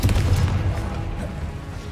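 The Confringo fire spell from Hogwarts Legacy bursts as a heavy, booming explosion, a loud low rumble that fills the whole two seconds and slowly fades.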